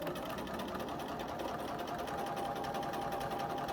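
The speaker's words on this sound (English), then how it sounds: "I'm just going to sew these two pieces of fabric together just so I can demo" Sewing machine stitching two pieces of fabric together, a steady fast mechanical whirring and ticking that runs evenly without pause, close and moderately loud.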